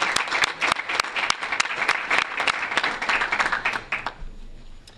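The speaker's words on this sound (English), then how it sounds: "we need to give a big round of applause to those people that helped make this happen" A crowd claps warmly at a board meeting, with individual claps standing out close by against the dense applause before it thins and fades near the end.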